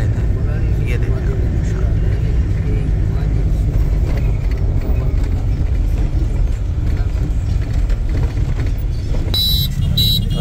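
Road traffic on Howrah Bridge in Kolkata, a continuous loud rumble of passing vehicles with a busy urban din, and a voice talking over it.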